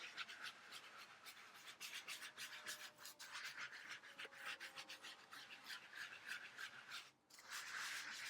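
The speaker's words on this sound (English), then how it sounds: "Not scrubbing too hard, just enough to kind of move, like loosen up the dirt" A sponge scrubs a dirty Cricut cutting mat in circles, making soft, quiet, rhythmic rubbing strokes up close, with no talking.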